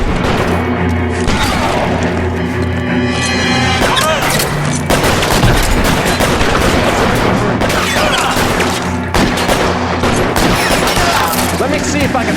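Loud, sustained gunfire from multiple weapons in the L.A. Noire police shootout, with rapid overlapping shots and bursts filling the whole stretch, dense and close.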